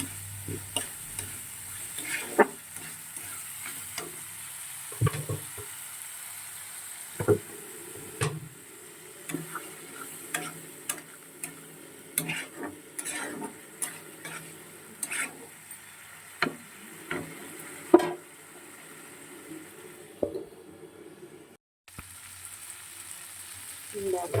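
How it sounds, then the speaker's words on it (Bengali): Spiced masala and potatoes fry in a pan over a low gas flame, giving a soft, continuous sizzle. Intermittent clicks and scraping stirs sound close by, and the sizzle briefly drops out near the end. "গ্যাস কম করে একদম কষাবো।"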